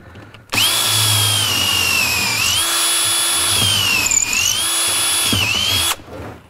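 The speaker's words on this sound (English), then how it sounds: "I'm just going to quickly drill the other 10mm hole down here." A power drill bores a 10mm hole, running loud and steady for about five seconds with a high whining motor pitch that dips and recovers under load before stopping.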